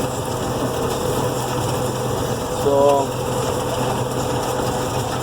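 A tractor engine idles steadily at 1400 RPM while pulling a no-till drill seeding alfalfa, a constant mechanical drone with a brief spoken word over it.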